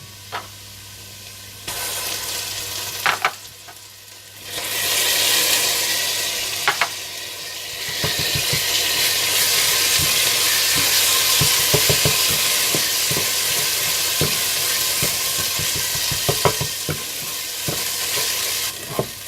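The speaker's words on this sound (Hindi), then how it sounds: "आप इसमें पिसा हुआ अदरक लहसुन और पिसी हुई हरी मिर्चें डालकर थोड़ा सा भून लें" Browning onions fry in a pan with ground ginger, garlic and green chillies added, a steady loud sizzle with scraping stirs and clicks of a spoon.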